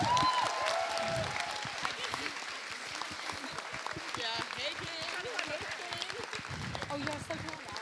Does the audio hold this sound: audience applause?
yes